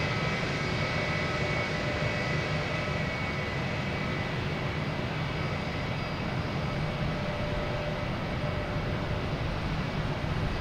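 A JetBlue jet airliner comes in to land at Boston Logan Airport, its engines a loud, steady broadband roar with a faint whine that holds close and constant throughout.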